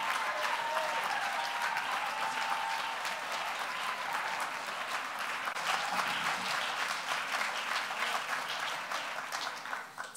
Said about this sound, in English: Applaud her all the way up to the stage.